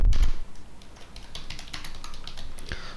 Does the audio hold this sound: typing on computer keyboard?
yes